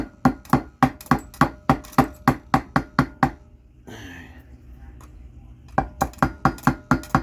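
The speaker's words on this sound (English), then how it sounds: "Okay, tap the back down a little more." A hammer strikes a Predator 212 engine part in quick, steady, ringing taps, pauses briefly amid faint rustling and a short voice, then resumes tapping rhythmically up close.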